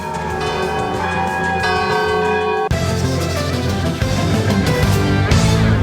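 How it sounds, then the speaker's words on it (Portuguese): Church bells of the Igreja do Bonfim in Salvador, Brazil ring continuously with rich, overlapping tones, loud and close, a steady peal with a brief break midway before the ringing resumes. "os sinos da tradicional Igreja do Bonfim, em Salvador, voltam a badalar depois de 30 anos"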